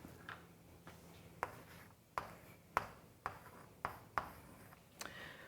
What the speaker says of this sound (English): We could write out the numbers.